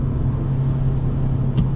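A Fiat Punto 1.4 engine drones loud and steady on a wet forest road in the rain, a constant low hum with road noise.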